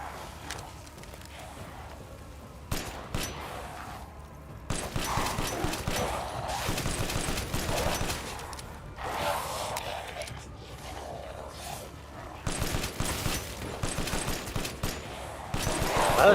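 Pistol shots in the survival horror game Resident Evil Village crack in uneven clusters, some rapid and some spaced, over quieter ambient stretches.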